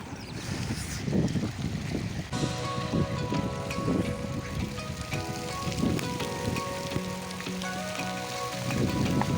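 Steady rain falling outdoors where ducks are sheltering, a dense continuous patter of drops on surfaces throughout, fairly close and even in level, with scattered tonal sounds in the background.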